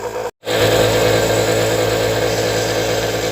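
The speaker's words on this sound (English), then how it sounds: "so I'm using this pneumatic grinder," A loud, continuous whirring drone from a pneumatic grinder cutting fiberglass, briefly cut off near the start before resuming at a steady, sustained level.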